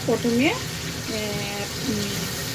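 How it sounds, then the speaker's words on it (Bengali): Hot oil sizzles and crackles steadily as hilsa fish fries, with a voice talking over the frying. "ইলিশ মাছ ভাজাগুলি করে ফেলছি আমি।"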